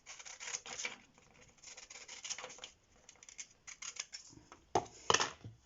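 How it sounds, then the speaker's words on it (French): Scissors snip through a paper page for a handmade junk-style greeting card, quiet close cuts in irregular bursts with soft rustles and small pauses between strokes. "Je vais couper ma première page."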